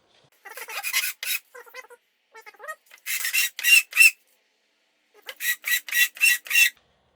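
Hand sanding on a 3D printed dice tower part, with short rasping strokes in quick bursts, some rapid rhythmic passes and brief pauses between, close and clear with no talking.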